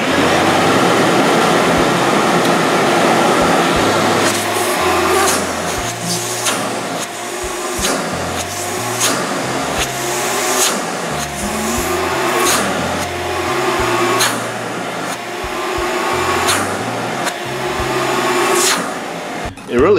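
Shop vacuum running through an Oneida Dust Deputy cyclone separator, a loud continuous roar with repeated pulsing surges and sharp clicks as the intake is blocked and released.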